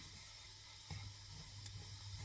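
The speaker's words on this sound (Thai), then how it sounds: "เรามาผัดเห็ดนะคะ แล้วก็เอาใส่หอมด้วยนะคะ" Mushrooms, sliced onion and chopped bacon stir-fried in a pan, giving a steady soft sizzle with a few brief louder stirring bursts, close and fairly quiet, with no talking.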